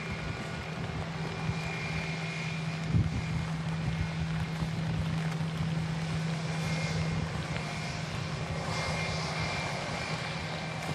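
A Jet2 Airbus A330 departs Manchester Airport in heavy rain, its jet engines a steady, broad roar mixed with rain and wind noise that holds for the whole stretch without letup.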